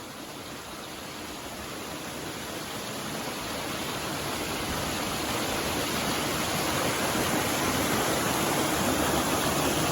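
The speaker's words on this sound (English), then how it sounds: "that's a look at the bigger waterfall" A big waterfall roars as steady, dense broadband rushing water, close and continuous, slowly swelling louder over the stretch with no voices.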